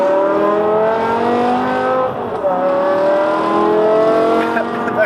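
Modified 550 bhp BMW E60 M5 with a V10 engine, accelerating hard through long gears with a loud rising high-pitched wail, one brief dip at a gear change before the climb resumes.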